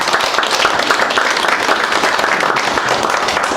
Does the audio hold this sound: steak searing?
no